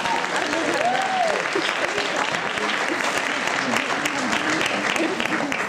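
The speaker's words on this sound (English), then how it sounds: "I think the applause should be entirely for the speakers" Steady, sustained applause from an audience at a youth public-speaking competition in London, a continuous even roar of clapping with a few voices faintly audible beneath it.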